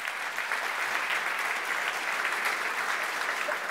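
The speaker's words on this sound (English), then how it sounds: "Round of applause for Brandi." An audience at an evening museum event applauds steadily, a dense even clapping that holds at one level for several seconds.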